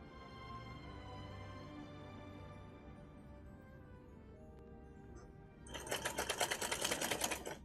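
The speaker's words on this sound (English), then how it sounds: "That's a drill, not a sewing machine." A small handheld drill whirs loudly for a couple of seconds while a cosplay costume is being made, breaking in after a stretch of quiet room hum.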